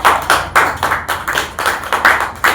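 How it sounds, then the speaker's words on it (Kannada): A crowd claps loudly in a hall, in steady rhythmic unison with about nine sharp bursts. No voices are heard over the clapping. "ಜೋರಾದ ಒಂದು ಚಪ್ಪಾಳೆ ಹೊಡಿತೀನಿ"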